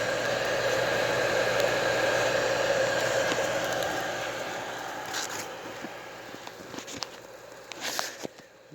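A replacement damper fan on a Hardy H2 outdoor wood furnace runs with a steady, smooth whir and quiet bearings, loud and close at first, then easing slightly, with a few small knocks and rustles near the end.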